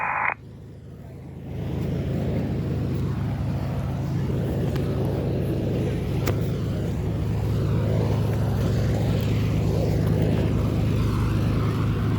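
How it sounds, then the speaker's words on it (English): An unidentified propeller airplane near an airport runway drones steadily overhead, a loud continuous low rumble that sets in after a quiet moment and holds for the rest of the clip, with no talk. "I have no idea what the hell this kind of plane is"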